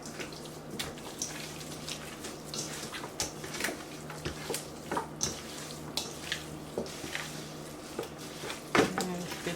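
Wet clicking and clinking as raw chicken is mixed with buttermilk in a bowl, steady irregular taps and squelches against a constant low background hum, with no voice over it.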